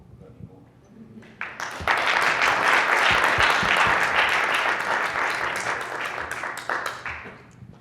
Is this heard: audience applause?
yes